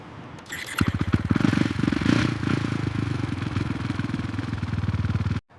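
A KTM Duke 390 motorcycle runs close by with a rapid, steady engine pulse and some clatter, the revs lifting briefly near the start before it cuts off abruptly at the end.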